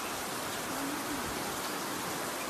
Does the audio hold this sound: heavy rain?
yes